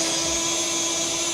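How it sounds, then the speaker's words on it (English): A power drill whirs continuously on a robot chassis, a steady high-pitched electric whine with a strong constant tone, brief and close. "That drill sounds so"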